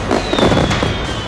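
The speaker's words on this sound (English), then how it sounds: "we've got fireworks. What a way to finish off a day in Beijing with a bang" Fireworks bursting over Beijing at night, a dense loud crackle of rapid pops and bangs with a faint whistle running through it.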